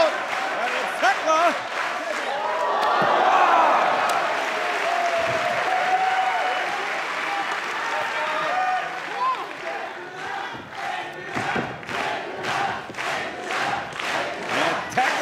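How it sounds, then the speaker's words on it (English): A wrestling crowd at a Bishamon vs War Dogs and DDM vs Willow Nightingale & Momo Kohgo show cheers and applauds, swelling into a roar and then breaking into rhythmic rallying chants and claps under a commentator's voice. "The crowd rallying behind."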